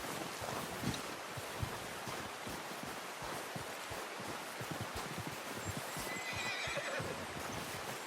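A faint horse whinny from the video game Red Dead Redemption 2 rises briefly near the end over a steady, hissy background, with soft hoof clops and rustling throughout.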